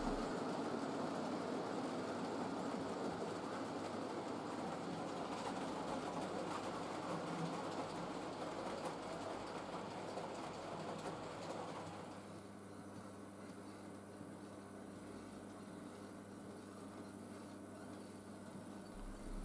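A model railway fish train, fully fitted with a pair of vans at the rear, rumbles steadily along the track for about twelve seconds, then the sound drops to a quieter hum as it recedes; no talking.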